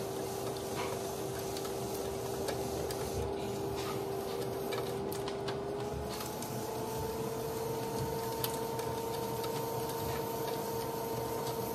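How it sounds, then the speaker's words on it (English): A clay pot with a lid is trimmed on a spinning pottery wheel, giving a steady motor hum with a sustained tone that shifts pitch partway through, plus faint ticking and scraping of the trimming tool. "So I'm trimming the pot on the edge, so the lid on the pot."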